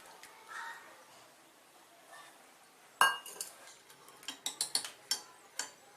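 Cooked toor dal is stirred into Thiruvathirai kootu in a pot, with a sharp knock followed by a series of quick metallic clinks and taps of a spoon against the vessel, close and fairly crisp after a quiet start.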